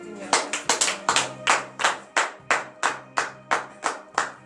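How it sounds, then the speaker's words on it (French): Congregation at a Wednesday morning prayer service in Comè, Benin, clapping together in a steady rhythmic beat, about three claps per second, with sustained musical tones underneath. "veuillez vous lever sur vos pieds et donner de vives acclamations à l'Éternel."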